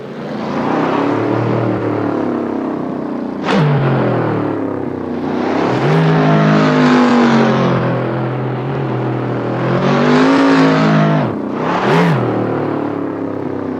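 A turbocharged car engine revs up and down in repeated rising and falling surges, loud and close from inside the car, with sharp bursts between pulls and no talking.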